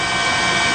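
A news helicopter flies over northern Miyagi Prefecture during the 2011 tsunami, a brief, steady engine and rotor drone that is loud and continuous, with no talking.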